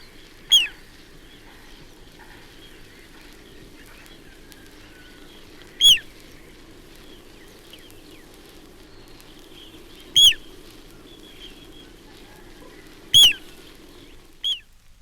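Little ringed plover calls recorded just outside London: five short, sharp, high piping notes spaced several seconds apart, clear and fairly close over a quiet low background hum.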